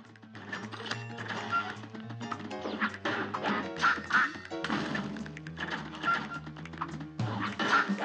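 Cartoon ducks from the Cuphead video game quack in repeated short bursts over bouncy game music and thudding effects, fairly close and steady throughout.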